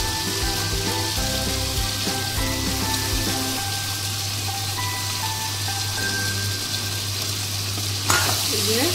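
Liver sizzling and frying in hot spiced oil with green chillies, stirred with a spatula, a steady close crackle broken by occasional scraping strokes.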